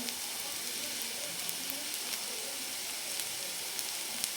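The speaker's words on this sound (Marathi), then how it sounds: "तर कांदा छान परतून घेतल्यानंतर आपण आता याच्यामध्ये टाकून घेऊ थोडीशी आपण हळद टाकणार आहे" Turmeric goes into onions already sautéed in oil in a pan for a village-style prawn chutney, giving a steady, even sizzle with faint crackles throughout and no talking.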